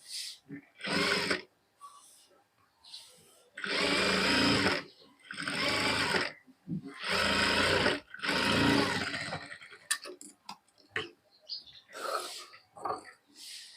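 Sewing machine stitching a princess cut blouse with a double top stitch runs in several steady whirring bursts, each a few seconds long, close and loud, separated by short pauses and fabric handling; brief quiet talk comes near the end.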